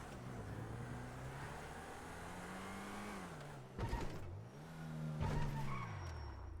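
A car driving in GTA FiveM, its engine droning steadily with pitch rising and falling as it revs and shifts, plus a couple of sharp bumps or thuds, all fairly quiet.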